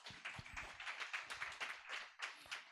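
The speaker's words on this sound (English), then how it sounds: "Another round of applause, please" A round of audience applause at a LISA Program presentation, heard as fairly sparse, uneven clapping from a modest group, with bursts and brief dips rather than a dense roar, moderately near.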